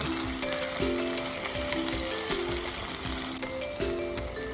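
Spicy crocodile meat stir-fries with basil in a hot pan, a constant close sizzle broken by rhythmic scraping and clanking of the spatula against the pan.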